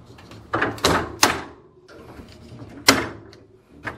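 Plastic basket on a Kenmore LG refrigerator door snapping back into its sliders: a few sharp clicks and knocks, close and fairly loud, with quieter handling noise between them.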